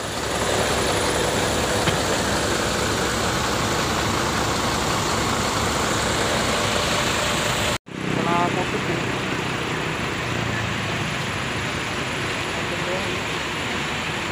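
A bus engine idles loudly and steadily with the engine compartment open, a constant close rumble filling the whole clip, broken by one brief dropout partway through.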